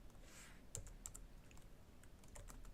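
Quiet, rapid clicking of keys on a computer keyboard, a close but faint run of scattered keystrokes over low background hiss, no voices.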